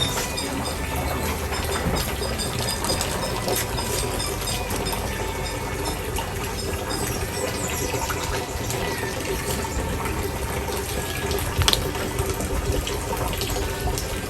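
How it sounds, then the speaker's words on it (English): Water runs steadily from a tap while artificial insemination equipment is washed with soap, a constant loud splashing rush with no break. "we ensure that we wash it with soap and water and clean."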